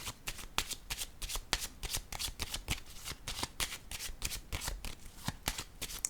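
Tarot cards are shuffled by hand in a quiet room, a rapid, faint run of crisp flicks and riffles continuing steadily for several seconds.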